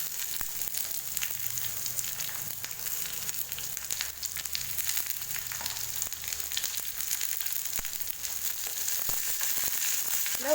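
Finely chopped onions and curry leaves sauté over a low flame for a lady's finger kara kulambu, giving a steady soft sizzle with occasional stirring clicks throughout.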